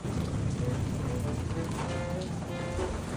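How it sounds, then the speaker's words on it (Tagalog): Steady rain falls outside a house, a dense even patter of drops on surfaces with a low rumble underneath, continuous and fairly close for the whole stretch. "Umuulan pa ngayon."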